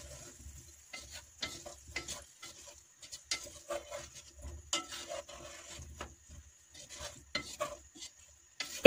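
Courgette with cinnamon being stirred in a pot, soft intermittent scraping and clacking strokes with quiet gentle sizzling between them, close and unaccompanied.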